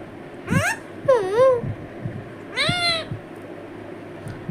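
A pet parrot imitating a cat, giving three drawn-out, wavering meows that sound convincingly feline, close and clear against a quiet room.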